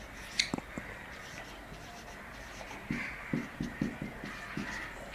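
Marker or chalk strokes on a board during a chemistry lecture, a run of short, distinct scratching taps in quick rhythm, fairly close and alone.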